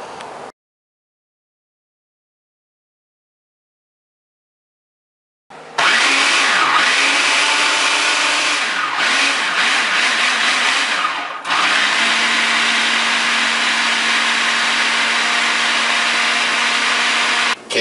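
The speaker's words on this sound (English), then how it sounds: "then we'll put them in a food processor and puree them with a cup full of vinegar" A food processor whirs loudly and steadily as it purees habanero peppers with vinegar, starting after a short silence, its pitch shifting slightly as the mixture thins, with no voices.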